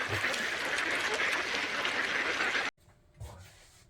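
A loud, raspy quacking sound fills most of the moment, cuts off abruptly, then a shorter quack follows after a brief pause.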